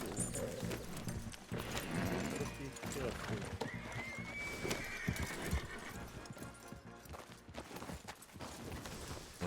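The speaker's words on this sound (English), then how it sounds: "It's the fucking wild horses who I trampled" Wild horses in Red Dead Redemption 2 gallop with rapid hoofbeats and let out loud neighs and whinnies, while people talk over the commotion.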